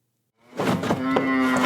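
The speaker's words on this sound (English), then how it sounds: "There's a dozen or so cows munching on hay in Steve Shatney's barn." A single long, loud moo from one of a dozen or so cows eating hay in a family farm barn in Greensboro, rising close by after a brief silence and holding steady to the end.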